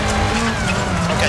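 A rally car in EA Sports WRC drives at speed on a four-wheel-drive stage, its engine droning loudly with tire noise under a man's speech.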